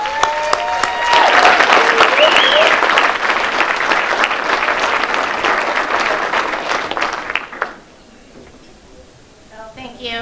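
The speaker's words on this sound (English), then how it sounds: "have everyone give a real round of applause for Katie" Loud audience applause at the Leadership Kitsap 2021 "20 Under 40" award ceremony, sustained clapping with a few cheers that fades to quiet near the end before a voice returns.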